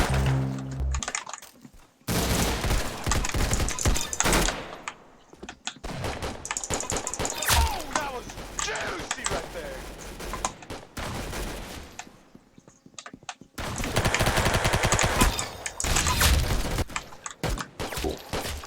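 Video game gunfire from an Arsenal match on maps like Hillside, Aircraft and Sandtown comes in rapid clattering bursts and scattered shots with short gaps between them, mixed with quick clicks from a keyboard.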